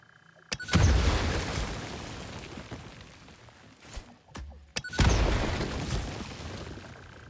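Rocks are blasted apart in the video game Satisfactory, with two sharp booming explosions, each followed by a rumbling decay, and a few fainter pops between them.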